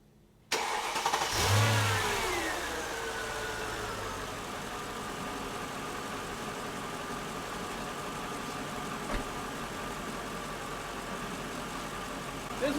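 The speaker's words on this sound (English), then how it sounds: "I want you to listen to the power steering pump." A replacement power steering pump runs on a Mercedes SL500 with ABC suspension: the engine starts with a brief surge, then settles into a steady, close idle with a faint whine and no talking.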